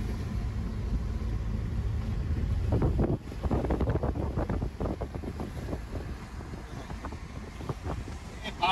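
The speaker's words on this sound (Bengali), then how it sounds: "পদ্মা নদীর বাতাস এইরকম বাতাস" Strong wind by the Padma river buffets the microphone in a steady, loud roar. The roar dips briefly after about three seconds, then continues with gusty rumbling to the end.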